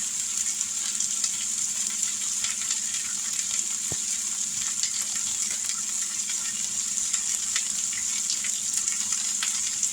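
Pot roast beef browns in a pan with a steady, loud sizzle that holds evenly throughout, broken once by a single brief knock.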